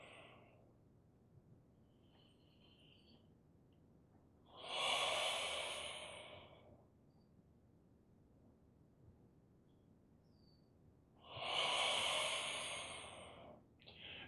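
Two deep, slow out-breaths during a qigong exercise, each a long airy whoosh lasting about two seconds, close and clear, separated by quiet pauses.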